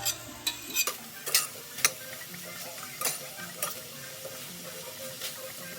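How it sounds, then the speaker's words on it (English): Onion and garlic sautéing in a skillet with very little oil: a run of light, crisp spoon-and-pan scrapes and ticks, uneven and fairly close, over a faint steady sizzle, with no one speaking. "we're only gonna add very little oil to saute the onion and the garlic"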